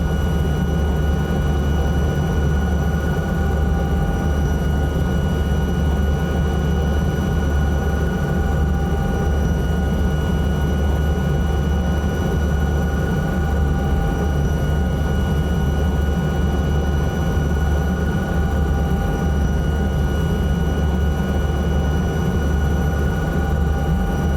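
A helicopter flying in Microsoft Flight Simulator 2024 gives a steady, loud engine and rotor drone that runs unbroken throughout with no voices.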